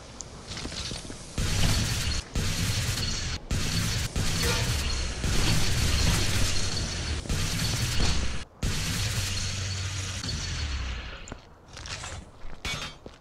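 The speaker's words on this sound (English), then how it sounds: "let's use the big gun" A big gun fires repeatedly in Viscera Cleanup Detail, loud heavy bursts with shattering, mechanical clatter in irregular rhythm, close and dominant throughout.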